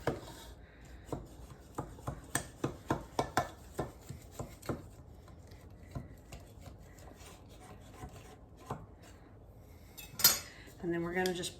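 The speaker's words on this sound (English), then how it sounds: "we're just going to very carefully run a sharp knife around the edge here" A sharp knife is run around the edge of an angel food cake pan, giving a quick series of close scraping clicks and rasps that fade out, followed by a louder clatter.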